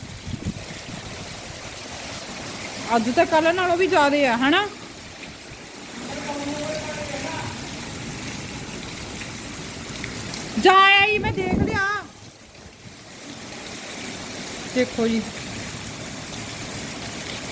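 Rainwater running around a cattle shed on unpaved ground, a steady wash of flowing and trickling water throughout, heard under someone speaking intermittently close by.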